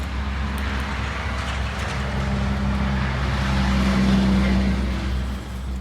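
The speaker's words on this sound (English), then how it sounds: "Sugar beet trucks are going like crazy." Sugar beet trucks pass during beet season as a broad roadway roar with a low engine drone that swells toward the middle and then eases off, heard nearby with no speech.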